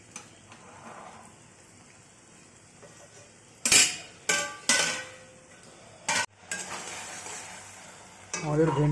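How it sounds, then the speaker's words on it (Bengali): Okra curry with yogurt (dahi bhindi) gets stirred in a pan with a utensil: a few sharp scraping clatters over a soft simmer, then a longer stretch of stirring, close up. "আবারও 2 মিনিট পর খুলে একটু নেড়ে দিলাম।"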